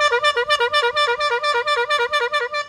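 Rapid repeated honks from a rubber squeeze-bulb bicycle horn, a pig castrator's horn, sound close and loud in an even train of short reedy blasts lasting nearly three seconds, with no voices.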